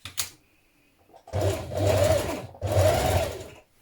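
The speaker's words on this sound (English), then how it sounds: "So to do this stitching, I'm using a twin ballpoint needle." A sewing machine with a twin ballpoint needle stitches a dress in two steady bursts of rapid, even whirring, each lasting about a second, separated by a short pause, in a quiet room.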